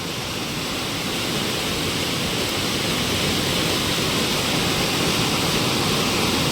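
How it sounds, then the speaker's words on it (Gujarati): Floodwater pours steadily over a river check dam in a continuous, loud roar of rushing water that fills the whole clip without pause, with no voices. "અહીંયા ચેક ડેમ છે. જો અહીંયા અને આટલું એકધારું પાણી છે."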